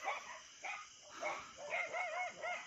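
Dogs bark at night outdoors during a spider hunt in the Philippines, a string of mid-distance barks and yips in an irregular rhythm across the whole stretch, with no talk over them.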